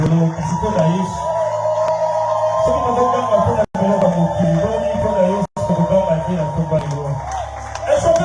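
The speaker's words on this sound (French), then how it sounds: "Est-ce qu'on peut acclamer pour Jésus?" A church congregation at a Sunday service cheers and whoops, voices shouting together over sustained music, loud and lively with a couple of brief cuts.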